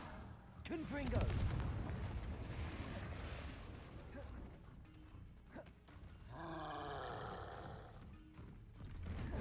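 A Confringo spell explosion in a video game: a sudden booming burst near the start rolls into a long, crackling rumble, with a second blast-like surge later amid busy in-game sound.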